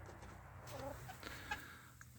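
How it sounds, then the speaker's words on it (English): Chickens cluck and murmur softly while gathered around a newly installed PVC feeder, a few brief calls standing out over low steady background noise. "All the chickens think it's the next newest and bestest thing, so they're all gathered around."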